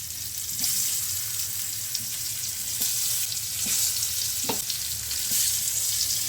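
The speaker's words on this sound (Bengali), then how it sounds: "এবারে ফ্লেমটাকে একদম লো করে দিয়ে আস্তে আস্তে পটলগুলো বসিয়ে দিচ্ছি" Pointed gourd (potol) pieces fry in oil in a pan over a low flame, giving a soft, steady sizzle with occasional light pops and clinks close by.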